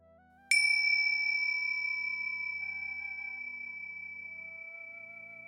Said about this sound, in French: Comme on écoute le son d'une cloche s'éloigner doucement.